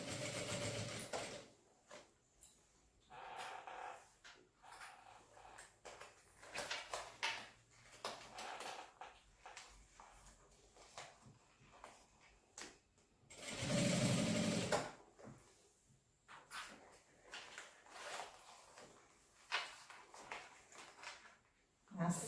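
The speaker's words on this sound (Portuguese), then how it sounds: "Essa costura pode ser com meio pezinho de máquina pra gente poder prender bem mesmo" A sewing machine stitches a seam on a small medicine bag with a half presser foot, running in repeated short bursts with brief pauses between them. The sound is close and moderately loud, and there is quiet handling noise between the bursts.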